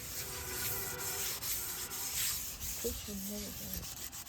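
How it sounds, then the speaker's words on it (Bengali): A scrubber rubs lightly over a burnt cooking pan in soft, continuous scraping strokes, fairly quiet and close, with a faint tonal sound near the end. "জাস্ট এইভাবে হালকা করেই আমি জালিটা দিয়ে ঘষছি"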